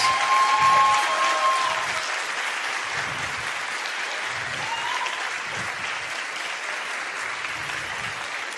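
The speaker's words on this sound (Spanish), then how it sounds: "me encantaría si le pudiéramos dar un aplauso" Audience at the Congreso Futuro 2023 talk applauding the congress team; steady, full clapping across the hall from start to finish, with a brief voice at the start.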